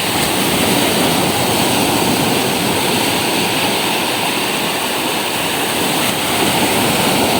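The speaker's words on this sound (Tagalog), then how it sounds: "Laki ng alon." Large waves crash continuously in a loud, unbroken roar of churning surf and water, with no voices.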